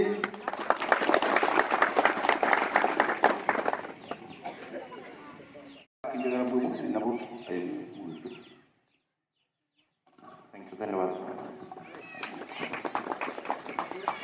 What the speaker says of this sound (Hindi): तो इसके लिए जोरदार ताली लगाइए।